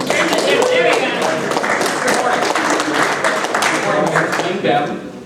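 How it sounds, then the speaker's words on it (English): An audience applauds at a startup pitch presentation for Pecos Data Systems; the clapping is steady and close, continuing for several seconds while people talk over it. "round of applause, everyone"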